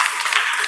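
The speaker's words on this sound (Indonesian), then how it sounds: "Kasih aplaus dulu untuk kelompok 2." Brief burst of applause from a classroom audience for a presenting student group, dense clapping filling the whole short moment.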